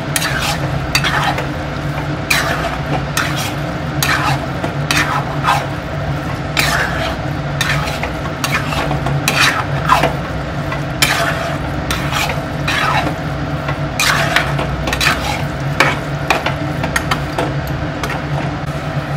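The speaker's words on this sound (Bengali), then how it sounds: "এবার আমি এটাকে ভালো করে মশলার সাথে মিশিয়ে নেব।" Egg tadka with spices being stirred in a pan, a spoon scraping in a steady repeated rhythm over a continuous loud sizzle, close and alone without talk.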